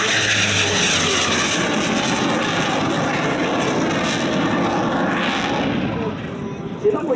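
A Yak-110 aerobatic airplane performs a demo at the 2019 Bell Fort Worth Alliance Airshow, its engines giving a loud, continuous roar with a slowly shifting tone that eases slightly toward the end.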